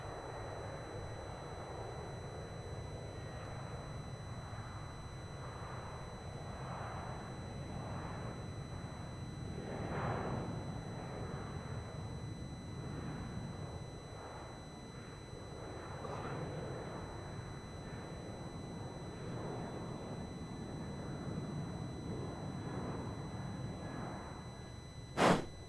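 A Velocity airliner departs Melbourne Airport bound for Sydney: a distant, sustained low jet roar that rises and fades slightly over the length, with a short click near the end and no talk.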